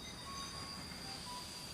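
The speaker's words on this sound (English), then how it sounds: "a steam train pulled into Dessau station." A steam train rolls into Dessau station in 1926, heard as a steady, low rumble of railcars with faint wheel noise running throughout, no voices.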